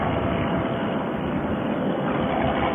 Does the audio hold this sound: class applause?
no